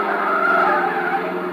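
Sustained tire squeal of a car skidding as it swerves back onto the road, a loud, steady screech lasting over a second and a half, heard as a sound effect in an old-time radio drama, with no voices over it.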